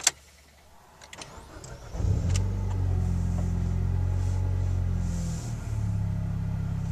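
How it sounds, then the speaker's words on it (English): A Mitsubishi Evo X with an Ultimate Racing turbo-back exhaust starts up as heard from inside the cabin: a brief crank and catch, then a steady, deep, rumbling idle that holds loud and even to the end. "Going to do a startup from inside the car so you can kind of hear what the Ultimate Racing turbo back does sound like inside the car."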